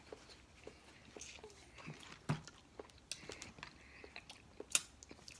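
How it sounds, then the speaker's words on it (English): Someone eating oxtail and shrimp chews loudly and wetly up close, with scattered crunches and smacks that come in irregular bursts over a quiet room. "Dang, you chewing loud."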